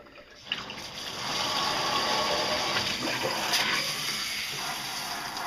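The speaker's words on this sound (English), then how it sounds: "I always have my shower head set to a pulse." A shower head on a pulse setting sprays water onto a dog's coat during bathing, a steady close hiss of spray that starts after a brief knock and continues evenly throughout.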